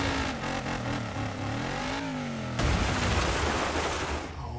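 A car engine in the DIRT 5 video game revs hard in first gear, a loud, steady roar with rising and falling pitch that surges louder midway, then holds a dense, gritty drone to the end.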